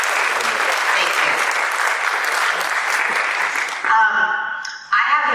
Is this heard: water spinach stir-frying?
no